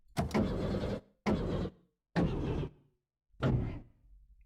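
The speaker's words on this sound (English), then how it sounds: "the engine made an odd creaking noise, like metal on metal, and fell silent." A video game car engine creaks and grinds metal on metal in four separate rough bursts with short gaps between them, then falls silent.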